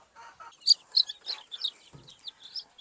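Small chicks peep in quick, high, thin chirps, several overlapping in an uneven rhythm, close by and moderately loud with short gaps between calls.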